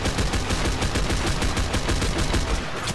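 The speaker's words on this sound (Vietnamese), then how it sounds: "Khẩu súng này rất là mạnh các bạn." SCAR-H rifle gunfire in a video game rattles out as dense, continuous rapid bursts, loud and up close, with no talking over it.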